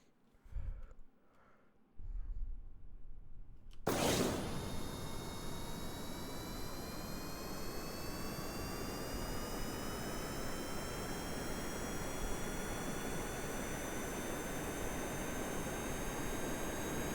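A poor plane's engine in a video game starts abruptly and roars on steadily, a loud continuous whine with rising tones that holds for many seconds after a few faint thumps.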